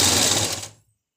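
A sewing machine runs in a short, fast buzzing burst while stitching around a circular palazzo, then stops abruptly into silence.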